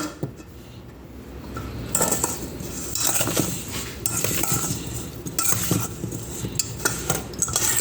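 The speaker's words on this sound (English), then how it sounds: "Make sure you coat every single strawberries inside there with the sugar." Strawberries being stirred and tossed with sugar in a bowl, a busy run of scraping, clinking utensil-on-bowl sounds that grows louder after the first two seconds and continues steadily, close up with no talking.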